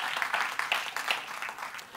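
Church congregation applauding for the Lord during a Spanish-language sermon, a steady wash of many hands clapping at moderate volume with no voices over it.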